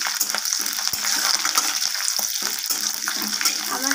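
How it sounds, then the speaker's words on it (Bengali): Chopped garlic and a few green chilies fry in a pan for a taro dish, giving a steady, close sizzle with scattered light crackles and pops across the whole stretch. "এরপর সব কিছু ভালোভাবে একটু ভাজা ভাজা করে নেব।"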